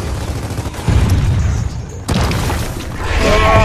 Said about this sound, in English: I have a boom shot.